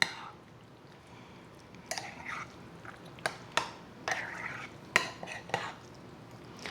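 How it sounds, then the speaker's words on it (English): Mushroom soup, Cheez Whiz and hominy being stirred together in a bowl for a hominy casserole, with scattered scraping clinks of a spoon against the dish and soft wet squelches, close and otherwise quiet. "I'm going to go ahead and stir that all together in my bowl"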